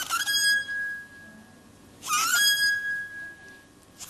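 Powder-dusted hands rub an aluminum tube, drawing out a pure, steady ringing tone with bright overtones that sustains for several seconds, with louder rubbing bursts at the start and again midway.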